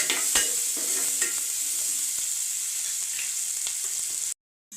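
Tomatoes and onions fry in a pan for khaju masala, giving a steady, close sizzle with occasional stirring scrapes and no talking, cutting off abruptly near the end.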